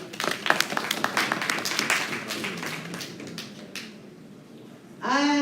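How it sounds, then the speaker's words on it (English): An audience clapping at a stakeholders' conference: a burst of sharp, close claps that thins out and fades, followed by a loud tonal sound at the very end. "Can we clap?"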